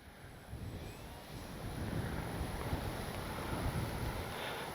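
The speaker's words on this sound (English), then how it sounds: "Oh boy, is it windy." Strong wind roars and buffets a microphone continuously at an RC plane flying field, gusting louder midway with a broad rushing noise and no voices.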